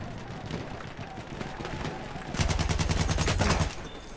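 Rapid automatic gunfire in the World War I shooter game Battlefield 1, with a dense, loud burst of shots in the last couple of seconds following scattered background battle noise.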